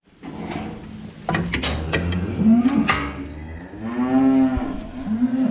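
A cow moos loudly and close by on a dairy farm, with a long low call and a second drawn-out moo after a pause, over faint barn clatter.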